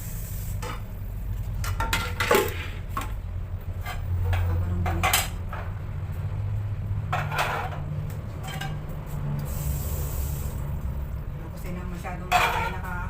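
Cooking pots, pans and utensils being washed in a home kitchen, with intermittent clinks and clatters of metal over running water and a steady low hum, with a voice speaking at times.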